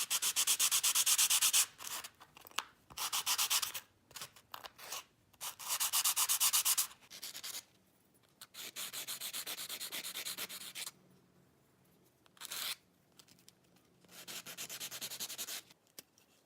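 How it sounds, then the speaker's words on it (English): Light hand sanding of wooden pieces from a 1982 Greenleaf table kit gives soft, close rubbing strokes in irregular bursts of one to three seconds, with quiet gaps between them. "the sanding is going to be very, very lightly, just to remove dust and remove any splinters"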